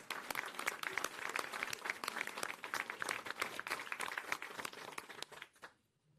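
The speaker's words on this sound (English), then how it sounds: "give your neighbor a round of applause" Scattered applause from an audience at a New York gathering, crisp individual claps fairly distant and thin, fading out abruptly near the end.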